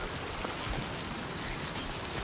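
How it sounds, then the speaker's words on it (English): Rain in the video game Death Stranding 2 on PS5 Pro, a soft, steady patter and hiss of falling rain that runs evenly throughout at low volume. "But because I've got this rain to contend with,"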